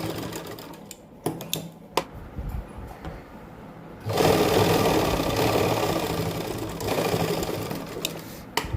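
A sewing machine stitches lace onto the edge of a dupatta. Scattered handling clicks come first, then a close, steady mechanical whir runs without a break to the end.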